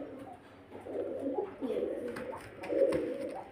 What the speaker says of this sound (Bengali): এই যে দেখুন পায়রা কোয়ালিটি দেখুন, খুব সুন্দর সুন্দর কোয়ালিটির পায়রা।